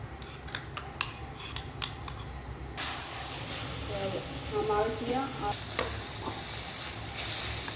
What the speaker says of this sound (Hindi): घी गर्म हो चुकी है, इसमें मैं जो लौकी घिसी थी इसमें मैं डाल देती हूँ।